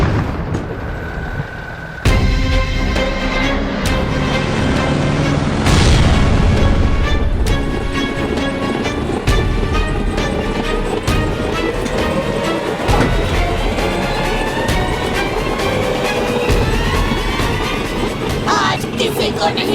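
A tank fires in a children's fantasy TV show, heavy booming blasts and rumbling explosions layered over a dense, roaring din with metallic clanking, loud and continuous.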